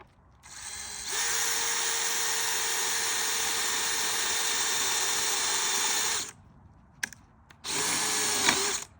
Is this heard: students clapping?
no